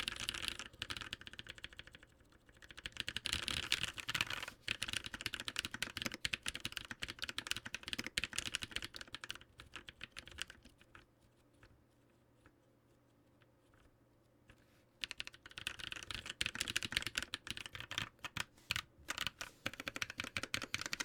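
A mechanical keyboard with a Rukia polycarbonate plate and lubed Halo Clear switches is typed on up close in rapid clacking bursts, with a brief lull of near-silence in the middle before the fast typing resumes.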